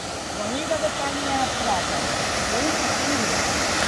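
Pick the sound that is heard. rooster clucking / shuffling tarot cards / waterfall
waterfall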